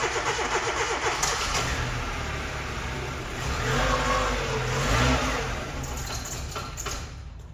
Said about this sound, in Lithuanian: Padarom cold startą.